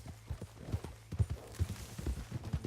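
Horse hooves clip-clop in a steady trotting rhythm in the video game Red Dead Redemption 2, close and fairly quiet against a faint hum.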